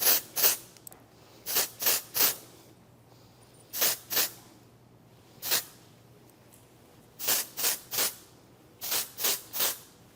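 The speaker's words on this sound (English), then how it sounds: "I make sure to put a lot of the texture spray at the root" Short sharp hisses of an aerosol texture spray onto hair, fired in quick bursts of two or three with pauses between, close and crisp against near silence.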